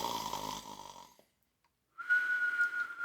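A voice imitating a cartoon snore, a raspy inhaled snore that cuts to silence, then a thin sustained whistle on the exhale, near and alone.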